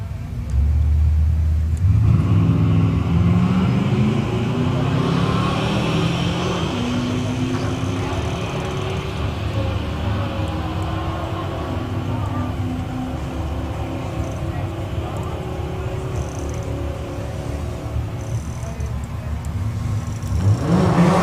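Hot rod drag racing cars, including a Vauxhall, roar down the strip, a loud sustained engine rumble building as they accelerate, heard from nearby with a faint announcer voice underneath.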